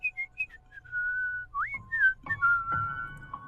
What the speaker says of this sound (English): I started to hear a whistling sound that was coming from the other side of the hallway.